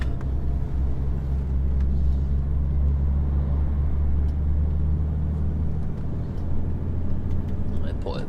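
A car engine drones low and steady after a shift into seventh gear while cruising on Cornwall roads, a continuous rumble with a steady tone that drops near the end, and a voice talks over it.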